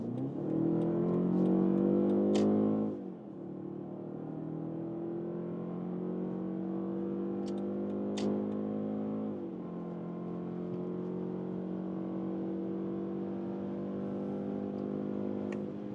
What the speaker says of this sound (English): the sound emulation in the sport mode here with the 5 Series, which we're driving now, is more pronounced